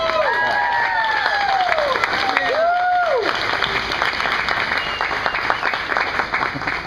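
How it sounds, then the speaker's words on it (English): An audience breaks into loud, sustained applause and cheering at a live art essay presentation, with whistles and whoops rising over the dense clapping before it gradually thins out. "let's give Matt a really big round of applause"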